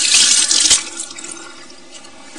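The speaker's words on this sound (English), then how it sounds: "go wash my hands like soap's come." A tap runs strongly for hand washing with soap, splashing loudly for under a second before the flow drops to a softer trickle and steady drip-like patter close by.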